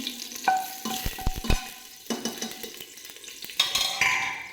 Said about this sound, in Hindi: तो इसको थोड़ा फ्राई होने देते हैं हम